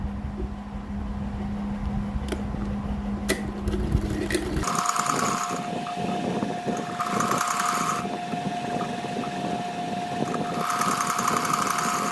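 A sewing machine stitching a kurti runs with a steady motorized hum and rapid rhythmic clatter, close and continuous, shifting in tone partway through.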